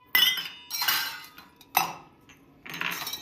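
Several sharp clinks and clatters of dishes and metal utensils, in irregular bursts, close by, with quiet gaps between them.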